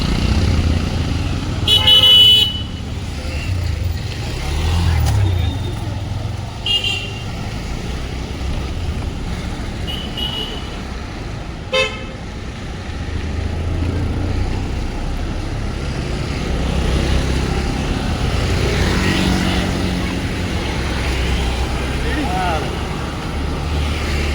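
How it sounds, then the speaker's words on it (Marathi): Dense road traffic on Gangapur Road rumbles along with passing engines and a few short car horn toots, while people talk nearby over the steady low vehicle drone. "गाड्यांची खूप गर्दी असते इकडं"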